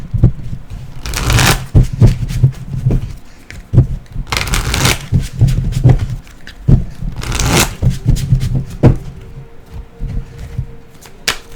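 Earth Magic oracle and Archangel Power tarot cards being shuffled by hand, with loud, close riffling bursts and softer sliding and tapping between them, repeating over about ten seconds with no talking.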